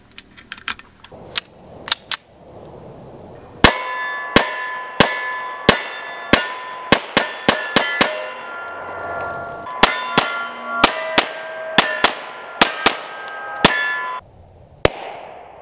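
Dan Wesson Specialist 1911 Commander pistol fired on a shooting range at steel targets: a few early shots, then a long string of sharp reports, each followed by a ringing clang of steel, some in quick succession, loud and close.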